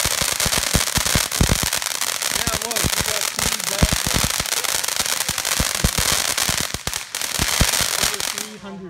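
Fireworks and firecrackers bang and crackle in a dense, continuous barrage for a 4th of July celebration, loud bursts overlapping one another with voices talking underneath.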